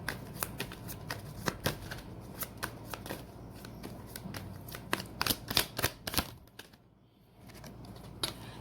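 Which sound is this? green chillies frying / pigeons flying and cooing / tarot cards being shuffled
tarot cards being shuffled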